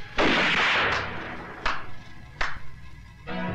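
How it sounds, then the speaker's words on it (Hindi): Gunshots fired into the air during a confrontation in a Bollywood action film, heard as a sharp initial blast with a long ringing tail, then two more separate, distinct shots spaced about a second apart. "हवा में गोलियां चलाने से कुछ नहीं होगा प्रताप सिंह।"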